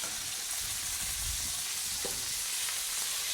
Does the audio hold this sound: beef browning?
yes